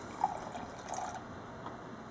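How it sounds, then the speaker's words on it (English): Cold water poured onto hide glue granules, a faint trickling and dripping pour, soft and close, with a brief splash near the start and no talk. "And we're going to put in 85 grams of cold water."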